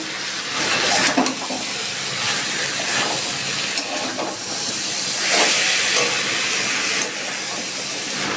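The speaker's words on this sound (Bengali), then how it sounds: "আমার সবজি ভাজা হয়ে গেছে" Vegetables frying in a pan for a moong dal recipe give a steady, loud hissing sizzle that runs unbroken throughout, with brief sharper bursts of spatter.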